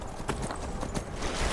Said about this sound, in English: But it's a horse! I'm on a horse!